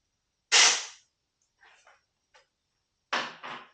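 Power ratchet loosening fuel tank bolts on a 1993 Harley Davidson FatBoy, two loud sharp bursts of whirring with brief faint clicks between, close by.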